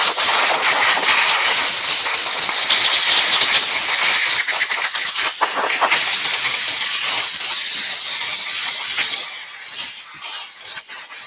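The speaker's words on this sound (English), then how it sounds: "Air noise coming up." Compressed air blasting out of a release point in a loud, sustained hiss with some rattling, close and dominant, easing off slightly toward the end.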